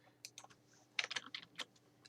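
Keys on a computer keyboard clatter in an uneven burst of sharp clicks, a Control-plus-C copy shortcut among the presses, close and moderately loud with no talk.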